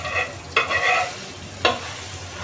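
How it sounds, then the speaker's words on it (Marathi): Pav buns fry in butter on a pan for kachchi dabeli, a steady close sizzle broken by two brief scraping sounds as the buns are moved or flipped. "असं व्यवस्थित चांगलं मस्त फ्राय करून घ्यायचे ते पाव"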